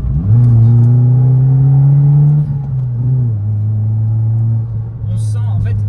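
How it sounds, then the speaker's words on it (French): A 1997 Fiat Cinquecento Sporting engine, 57 hp, revs after a downshift, a loud steady drone that rises and then settles, continuous and close throughout. "si je rétrograde et que j'accélère un peu"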